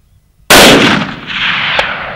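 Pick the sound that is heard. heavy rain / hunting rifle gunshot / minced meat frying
hunting rifle gunshot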